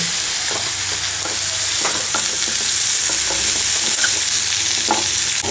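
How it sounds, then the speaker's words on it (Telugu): Cut drumstick pieces frying in oil in a pan, a loud, constant close-up sizzle with rhythmic stirring and scraping strokes throughout, no talk. "మనం కట్ చేసి పెట్టుకున్నాం ముల్లకాయలు మొత్తం అందులో వేసుకోవాలి మంచిగా కలుపుకోవాలి"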